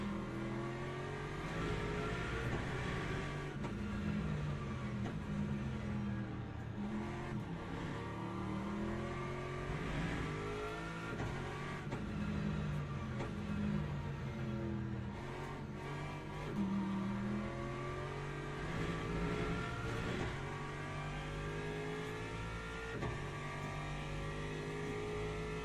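Hypercar engines in the Le Mans Ultimate racing game drone and rev continuously, with rising and falling pitch sweeps as cars accelerate and shift nearby, a steady loud mechanical roar throughout.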